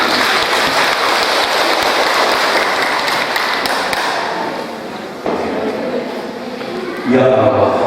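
A church wedding congregation applauds in a loud, sustained burst that slowly thins out, with voices talking over and after the clapping.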